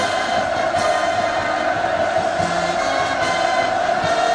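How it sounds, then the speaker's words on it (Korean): A large crowd roars hurrah cheers at a Workers' Party 75th anniversary celebration parade, a steady dense wash of massed voices held at constant loudness throughout. "폭풍 같은 만세 환호성을 터쳐 올렸습니다"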